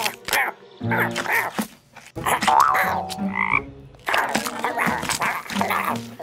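A cartoon frog croaks repeatedly among bright, busy animated sound effects and music, loud and close, with rhythmic croaking bursts spread across the scene.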